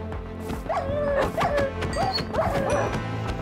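Dogs bark and yip repeatedly in Minecraft Bedrock, several sharp game barks in quick succession over busy in-game noise, with no talk.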